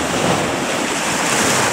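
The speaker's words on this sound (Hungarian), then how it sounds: "hát ez a tenger, ez a földközi tenger" Mediterranean surf along the Zakynthos coast of the Ionian Sea washes in as a steady, loud, close rush with wind buffeting the microphone, and no voices.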